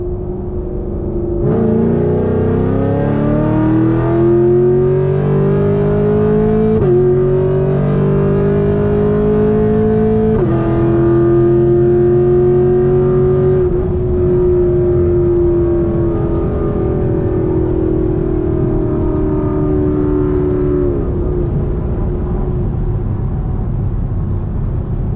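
A 6th-generation Chevrolet Camaro SS with Kooks longtube headers doing a 40 roll from third gear, the loud V8 exhaust climbing in pitch through several gear changes before easing off, heard from inside the car with no talking.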